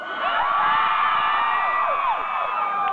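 A crowd of girls at a metal concert screams and cheers in one loud, sustained burst of high-pitched shrieks and whoops, close and continuous.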